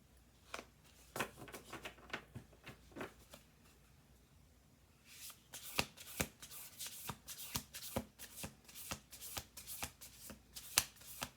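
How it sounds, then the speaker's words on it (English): Playing cards are shuffled close by, with soft riffles that become a quick series of sharp, crisp snaps, with no talking. "We'll do one more shuffle."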